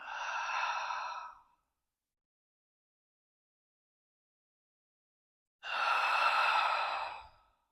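Two long, steady breaths blown out audibly during a beginner Pilates exercise, each lasting one to two seconds, separated by a silent pause, close and clear with no talking.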